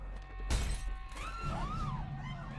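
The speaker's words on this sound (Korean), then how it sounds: "그 벌레들을 먹기 위해 덩치 큰 새들이 모여들고 유리에 균열이 가기 시작합니다" Supermarket window glass cracks and then shatters in a monster film set in fog: one sudden loud crash, followed by a tail of faint creaking and ringing.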